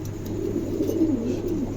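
Pigeons cooing nearby, a low, soft and steady murmur running throughout, with no talk over it; a pale silver male pigeon is among them.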